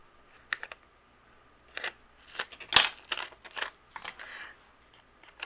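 Scattered crisp snips of scissors cutting cardstock for handmade greeting cards, close and fairly quiet, coming in short irregular bursts with pauses between.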